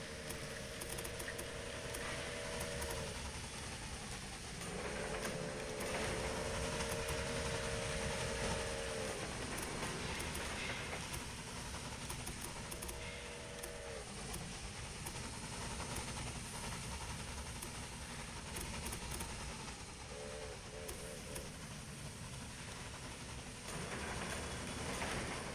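Several trains moving along a busy line in the Railway Empire video game: a quiet, continuous rail rumble punctuated by repeated short two-tone whistles at intervals, with no voices.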